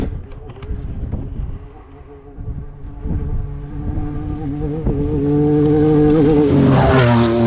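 An off-road race car on a desert test run, its engine roaring louder and rising in pitch as it accelerates hard, with wind buffeting the microphone throughout.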